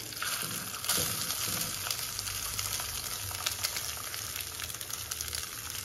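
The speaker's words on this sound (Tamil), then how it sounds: "இந்த சாதத்தையும் அதில் கொட்டிக்கலாம்" Cooked rice tips into a hot pan of oil with curry leaves, setting off a continuous bright sizzle with a few soft scrapes and clatters near the start, and no talking.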